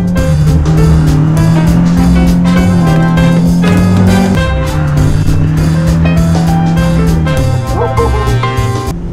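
A 2023 Honda Civic Type R, front-wheel drive, is pushed into a drift. Its engine drones loud and steady for the whole stretch, the pitch shifting as revs rise and fall, with faint voices underneath.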